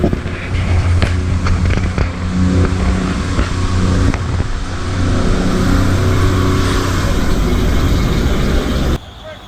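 A vehicle towing a generator trailer pulls forward slowly toward a carnival lineup, a steady, loud engine drone with low rumbling harmonics that holds for about nine seconds before cutting off.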